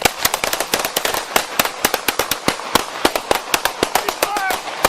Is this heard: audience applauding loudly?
no